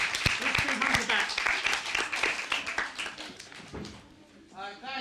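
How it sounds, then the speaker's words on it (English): An audience at a literature book festival gives a round of applause, a dense clatter of clapping with voices talking over it before it thins out. "Right, let's have a round of applause for everybody that's shown their work."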